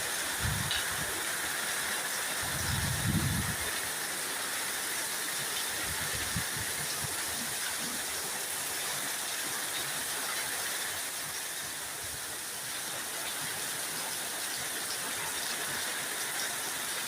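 Steady, dense hiss of heavy rain pouring continuously, with a few low rumbles early on and no voices.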